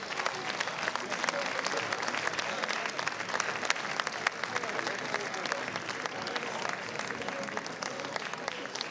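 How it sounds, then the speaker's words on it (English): Steady applause from a sizeable crowd at an awards ceremony, dense clapping sustained throughout at an even level without letting up. "Give them a nice big welcome, a nice big round of applause."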